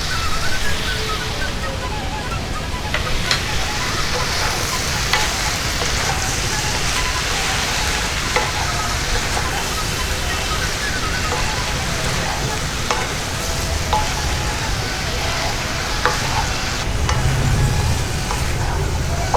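Chopped snake gourd, salt and turmeric are stirred in a pan, with a loud, steady sizzle and frequent scraping and tossing sounds up close, continuing unbroken for the whole stretch.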